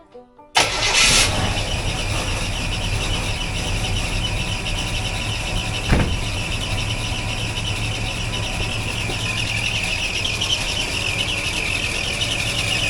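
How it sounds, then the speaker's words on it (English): A Chevy 283 V8 cranks and catches after a brief starter whir, then settles into a steady, loud idle up close, with a single sharp knock or clunk partway through. "I'm gonna start it back up and let it run, let it heat up."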